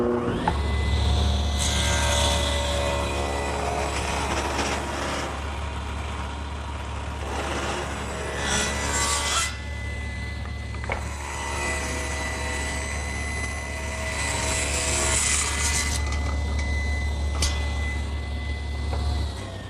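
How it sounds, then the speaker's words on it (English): A table saw rips thin 1/8-inch strips off each face of a 3/4-inch cherry board, the steady loud whine of the blade cutting continuously with a low motor hum beneath and brief surges as the wood feeds through. "I'm going to start by taking this 3/4 inch cherry and ripping 1/8 of an inch off of each face"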